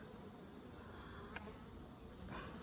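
Honey bees crowd a hive in late fall, a faint, steady buzzing hum with a couple of brief louder passes near the microphone.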